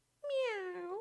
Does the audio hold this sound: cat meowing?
yes